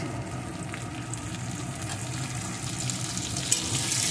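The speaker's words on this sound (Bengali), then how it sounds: "পেঁয়াজটাও রসুনের সাথে একটু ভেজে নিয়েছি" Chopped onion fries with crushed garlic in a pan, giving a close, continuous sizzling hiss with faint watery bubbling and an occasional light clink, and no voices.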